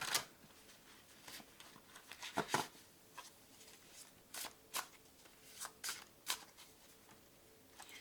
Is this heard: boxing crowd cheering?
no